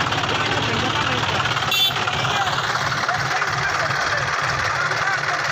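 A John Deere 5038 tractor and a New Holland 3630 tractor in a pulling contest, with a loud, steady diesel engine drone running close throughout.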